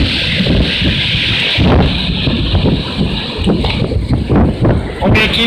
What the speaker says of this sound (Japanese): 風だな。